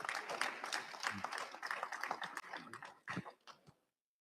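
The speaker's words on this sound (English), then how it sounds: "you need to give them a round of applause" Audience applauding at an international economic forum for Latin America and the Caribbean, a burst of crowded clapping that thins out and stops after about four seconds.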